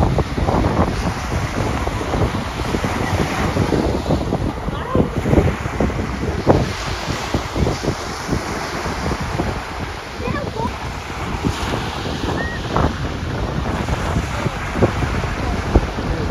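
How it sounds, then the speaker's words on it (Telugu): Heavy ocean waves surge and wash at a beach, heard under strong wind buffeting the microphone in a continuous, loud roar. "వాటర్ వేవ్స్ చాలా హెవీగా ఉన్నాయి."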